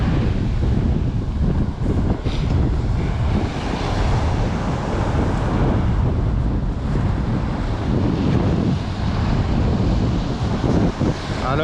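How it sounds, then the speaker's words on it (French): Sea waves wash onto a beach on a rising tide at a surfcasting spot, a continuous roar of surf mixed with strong wind buffeting the microphone, loud and steady throughout. "Alors la mer est en train de remonter."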